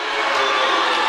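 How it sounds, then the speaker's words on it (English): A women's basketball home crowd at William Peace disputing a foul call, a dense sustained roar of many voices with shouts, loud and continuous throughout. "and the William Peace crowd disagrees"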